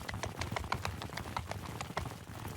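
Horse hooves clip-clop at a quick, steady gallop rhythm in the Mount & Blade II Bannerlord game, close and clear over a low rumbling background.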